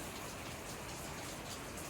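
Rain falls steadily in Los Angeles during a tropical storm, a dense even hiss of drops without breaks, faint and continuous.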